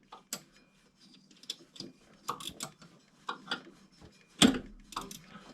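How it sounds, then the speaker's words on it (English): A wrench turns a torque converter bolt on a 2013 Subaru Impreza engine during a swap, a series of close, sharp ratcheting clicks and ticks in irregular bursts, ending in a louder clank. "Got one torque converter bolt started."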